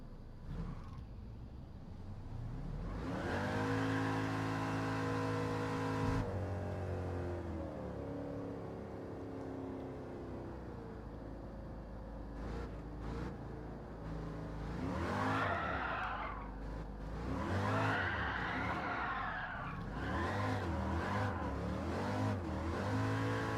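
A Chevrolet Chevelle SS in the Gran Turismo 7 racing game, its engine revving and climbing through gear shifts while tires squeal and skid, steady and fairly loud with no talking.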